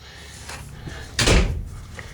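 A linen closet door in a 2013 Quailridge park model RV by Forest River opens with a soft knock and a brief, louder swish or thump near the middle, then light rattling, close and fairly quiet.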